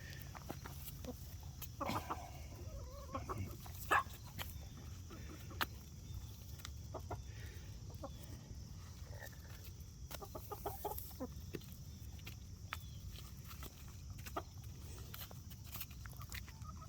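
Chickens cluck softly and sporadically in the distance over a low background hum, with a few faint footsteps and scuffs.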